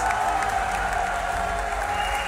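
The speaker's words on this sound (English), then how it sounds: "Let's give a round of applause for Astralis." Steady applause from a large crowd at a CS:GO esports grand final, dense continuous clapping heard close and loud throughout.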